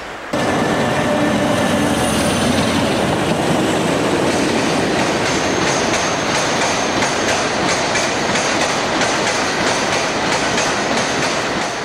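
A train rumbles past close by, loud and continuous, with rhythmic clattering of wheels on the rails throughout.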